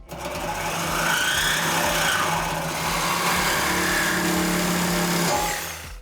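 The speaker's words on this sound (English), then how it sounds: "you can grab yourself a Sawzall or your cutting apparatus of choice" A Sawzall reciprocating saw cutting through a 2016-2023 Camaro SS exhaust pipe, a loud continuous buzzing whine that ramps up, holds steady for several seconds, then winds down.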